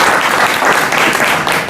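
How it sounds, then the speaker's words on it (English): Audience applause for six city commission candidates at a candidates forum, a dense steady clapping wash from start to end with no voices above it. "please give a round of applause for all 6 of our candidates"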